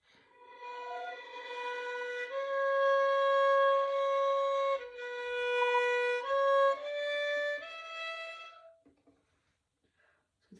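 Violin bowed sul tasto over the fingerboard, producing a soft, breathy, unfocused tone; a slow melodic line of sustained notes lasting about nine seconds, then fading to near silence, close and alone.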